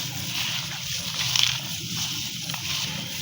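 Chickpeas are stirred with salt, turmeric and spices in a pot, giving a steady wet sloshing and scraping that runs throughout at close range, with no voices.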